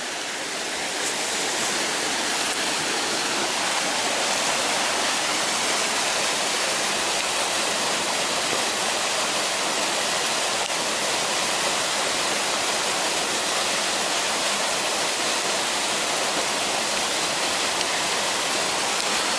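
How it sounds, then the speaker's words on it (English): Fast-flowing stream water rushing along a combe on a countryside walk, a loud, continuous broadband roar heard close up with no talking. "That's how fast the water's going"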